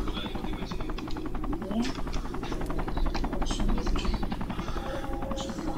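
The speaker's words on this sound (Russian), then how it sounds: "Где он, вертолет-то?" A helicopter in the video game Sniper Ghost Warrior 3 drones with a rapid, pulsing rotor chop, steady and fairly close, while someone talks over it.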